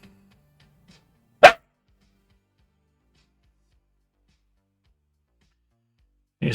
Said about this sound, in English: You stop looking at him when he barks.